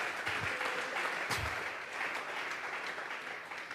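A church congregation at a Bible study bursts into applause offered to God, brisk dense clapping that fills the room and fades slightly toward the end, with a few low thumps early on.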